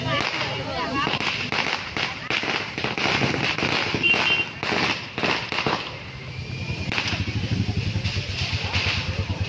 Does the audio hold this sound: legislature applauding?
no